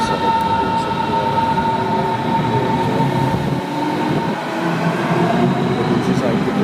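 A train pulls out from the opposite platform of a Berlin station, a loud steady rumble and rolling hum close by, with someone talking over it.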